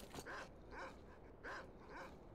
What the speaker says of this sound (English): Should take out those dogs, should I?